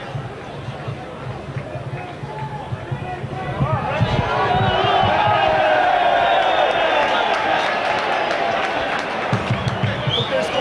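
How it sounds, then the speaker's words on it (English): Crowd noise swells into sustained applause from Chesterfield fans in the cricket field stand of a football stadium, with a commentator talking over it. "applause of the Chesterfield fans over in the cricket field stand there"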